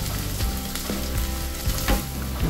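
Freshly ground coconut fries in a hot tempering with curry leaves over a low flame, giving a close, steady sizzle broken by irregular scraping stir strokes.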